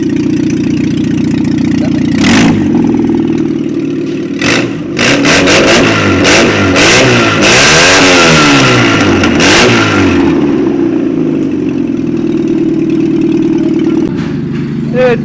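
Fiat Tipo 1.4 engine idling, then revved repeatedly in rising and falling surges, loud and close, settling back to a steady idle.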